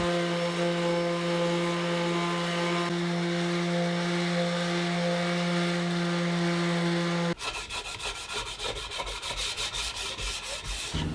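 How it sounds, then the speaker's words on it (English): A random orbit sander whirs steadily against wood filler, its tone shifting partway through into a rougher, buzzing grind; no voices. "I'll just sand it all down with my random orbit sander"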